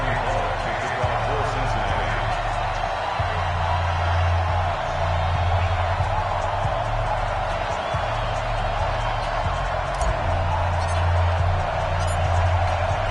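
A Baltimore stadium crowd roars throughout a Ravens versus Bengals NFL game in an EA Sports football title, a broad, steady wash of cheering held at an even level for the whole stretch, with low thumping underneath.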